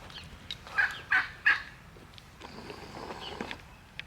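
Three quick turkey gobbles ring out in a row, moderately loud, followed by quieter rustling and soft calls in the background.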